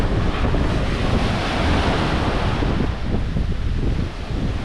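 Ocean waves crash on a beach at George Town in the Exumas, a loud continuous roar of surf mixed with heavy wind buffeting, steady throughout without speech.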